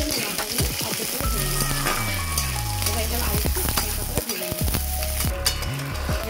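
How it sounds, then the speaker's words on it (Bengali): Chillies and a little garlic frying in oil in a kadai with fried chana dal and peanuts, giving a steady close sizzle with stirring and utensil scrapes throughout. "এরপর এর মধ্যে আমরা লঙ্কা এবং একটুখানি রসুন দেবো।"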